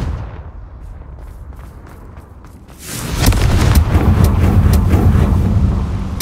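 A Confringo blasting spell explodes in Hogwarts Legacy: a quiet stretch gives way to a loud, sustained booming roar with crackling debris that carries on to the end.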